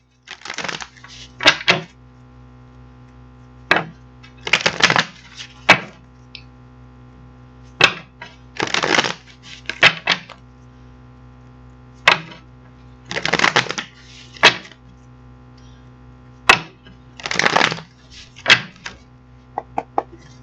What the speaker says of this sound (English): we're going to get these cards out, get them shuffled out